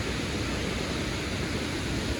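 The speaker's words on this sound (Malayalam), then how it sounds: "അവിടെ കേട്ടോ വെള്ളം വരുന്നത്." Water rushes steadily at Thommankuthu waterfall, a loud, continuous broadband roar with no talk over it.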